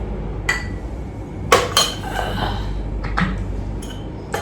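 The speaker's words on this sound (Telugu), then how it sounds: "అదే పాలు కాఫీ పొడి మిక్స్ చేస్తున్నానండి" Milk and coffee powder are stirred in a bowl for a face pack, with a few sharp clinks and scrapes of a utensil against the bowl over a quiet background, irregular and close.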